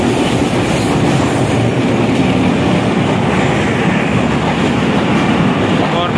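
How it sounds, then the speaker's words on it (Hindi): A Pakistan Express train pulls in, a loud, steady rumble with wheel clatter and rail noise filling the whole stretch close by. "माजिद की आ गया ट्रेन और ये पाकिस्तान एक्सप्रेस है, तो आ गई है पाकिस्तान एक्सप्रेस।"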